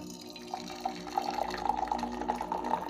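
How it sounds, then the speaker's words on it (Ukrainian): Near-boiling water poured from a small kettle into a glass tea pitcher during a Chinese tea ceremony, a steady close trickle that builds into a fuller splash over a few seconds. "Наливаю в чахай в чашу справедливості цей кувшинчик кип'яток"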